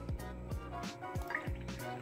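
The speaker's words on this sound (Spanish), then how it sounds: "Echamos también la leche." Milk pouring into a bread dough mixture of flour and yeast for bunny chow, a few soft close drips and a brief liquid gurgle, quiet and alone.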